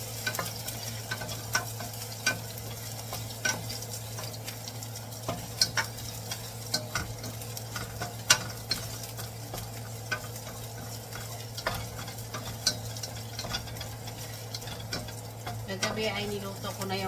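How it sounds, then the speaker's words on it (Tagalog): Garlic sautés in oil in a pan during Filipino home cooking of mung beans, with a steady sizzle, small ticks and scrapes of stirring, and a low constant hum underneath. "Maglalagay ako, magigisa ako ng bawang."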